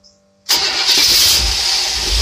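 A Buick car engine cranks and catches after a moment of near silence. It then settles into a loud, steady idle that runs on close by, with no talking over it.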